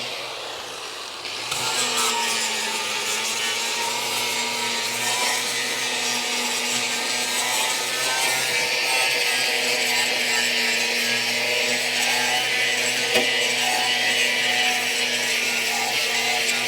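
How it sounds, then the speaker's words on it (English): A flap disc on an angle grinder grinding steadily on the worn, pitted body metal of a Dodge Crew Cab Charger under restoration. It starts after a short quiet lead-in, then holds a loud, continuous, close whine with slight rasping variation throughout. "The flap disc is, yeah, it's starting to go."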